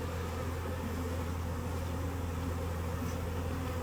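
Bees buzz in a steady, dense drone around a queen cage, close and continuous without a break.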